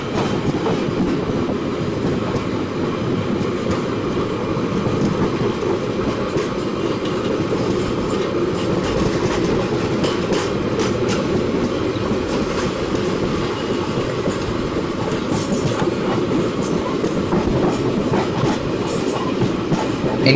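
Avadh Express gaining speed in Indian Train Simulator, a loud continuous rolling rumble with rhythmic clickety-clack of wheels over rail joints and occasional metallic squeal, with no talking.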